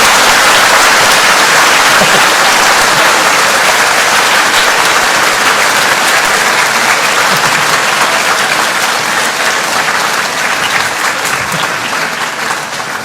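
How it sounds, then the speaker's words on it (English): A large audience at a Buddhist dharma talk by Ajahn Brahm bursts into loud, sustained applause, a thick wash of many hands clapping together that stays strong throughout and only eases slightly toward the end. "let's put our hands together and say sadhu 3 times and also clap"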